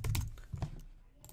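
Quick taps on a computer keyboard, a short burst of several close, crisp keystrokes in uneven rhythm, then a brief pause and one more tap, with no voices.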